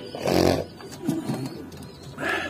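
Giribaz pigeons give soft, low coos close by, with a rounded call at the start, a shorter coo mid-way and another call near the end, and no talking.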